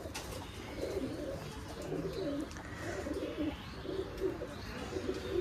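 Pigeons cooing on a pigeon farm, a continuous low layered burble of several birds close by, with soft background rustle throughout.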